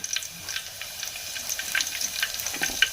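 Onion, coriander and curry leaves fry in a spluttering mustard seed and cumin tempering, a close crackling sizzle with sharp pops, no one talking.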